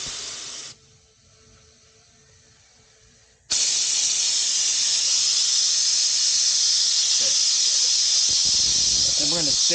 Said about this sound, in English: But you just want to blow a little air through.